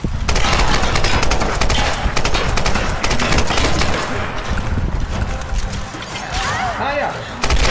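Rapid gunfire in Tomb Raider Definitive Edition on PS4, dense bursts of shots crackling almost without pause across the whole stretch, loud and close, with a player talking over it.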